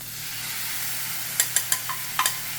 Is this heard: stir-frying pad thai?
yes